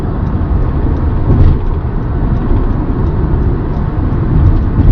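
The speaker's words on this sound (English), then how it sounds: "I'm going to come out to overtake." Steady road and engine rumble from inside a car pulling out to overtake on a highway, loud and continuous, with a slight swell partway through and no talking.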